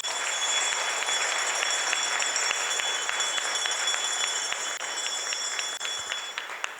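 An audience at the launch of a student investment competition bursts into applause after a countdown, a bright, crackling mass of claps that holds steady and fairly loud for nearly seven seconds.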